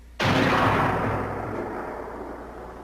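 A single loud gunshot cracks out close by with a sharp attack, then a long rumbling boom and echo that fade slowly over a couple of seconds.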